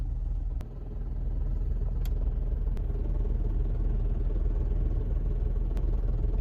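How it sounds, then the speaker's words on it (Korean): A Hyundai i40 engine idles while stopped, with a steady low rumble and a faint rattling clatter from the right side near the belt, continuous and close, with no talking. "지금 정차했을 때 엔진 소리가 좀 이상하거든요 달달달달달달 하는 소리가 좀 나서"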